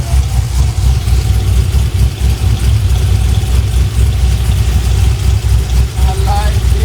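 Mercedes CLS 500 engine idling in a repair shop, a steady low rumble with exhaust note running throughout, close and constant, with voices talking over it.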